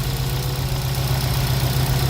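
A Subaru WRX with a swapped JDM engine idling with a steady low drone and a faint irregular knocking running through it, close and fairly loud.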